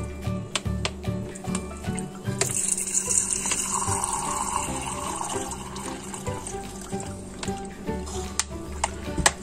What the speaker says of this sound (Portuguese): Vamos colocar aqui 100 ml de vinagre